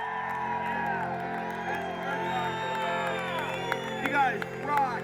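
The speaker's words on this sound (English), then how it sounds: "This is the biggest crowd we've had." A large crowd cheers at a snowmachine racing event in Alaska, with steady whoops and shouts rising in bursts and voices talking within the noise.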